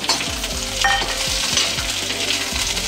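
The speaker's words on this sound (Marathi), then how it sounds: "आता टमाटे घालते त्याच्यामध्ये, ते पण भाजून घेतं" Tomatoes fry with browned, softened onions in a pan for a potato and chickpea usal, giving a loud steady sizzle with repeated spatula stirring scrapes throughout.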